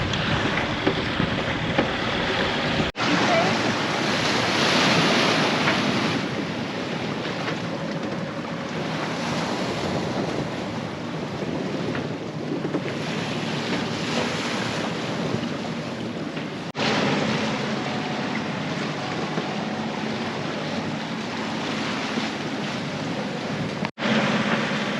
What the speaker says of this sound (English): The wind's right behind us.